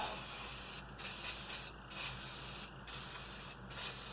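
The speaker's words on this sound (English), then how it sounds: "we're going to do some very, very light coats, and several of them" A can of spray paint hisses in four steady bursts of about a second each, separated by short pauses, as light coats go onto a custom license plate holder, loud and close with no voices.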